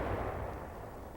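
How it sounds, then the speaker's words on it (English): Artillery guns boom in a dense low rumbling roar that carries loud and sustained, tailing off slowly without any voices present. "Artillerymen fire the anti-aircraft guns."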